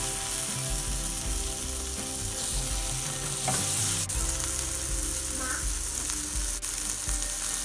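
Tomatoes hit a hot frying pan, where they are cooked with aubergine, and give a steady, loud sizzle and hiss that runs throughout, with a few faint scraping stirs and no voices.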